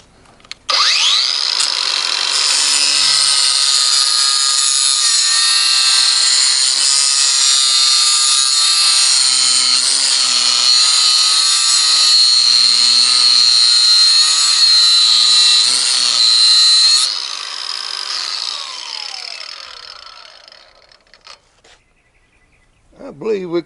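A mower blade clamped in a GSTP blade fixture is sharpened with a loud, steady, high grinding whine lasting about seventeen seconds before it winds down and stops.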